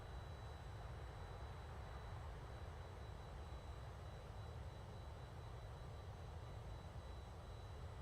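Boeing 747 jet engines in Microsoft Flight Simulator 2020 give off a steady, even roar that holds at the same level from start to finish with no pauses.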